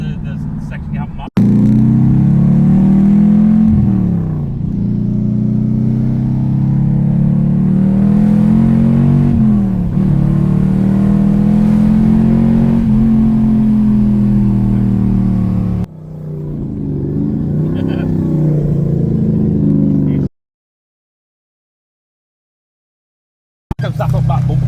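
A Ford Capri X-pack engine turns over and catches, then revs loudly in repeated rising and falling swells before cutting out, restarting briefly near the end.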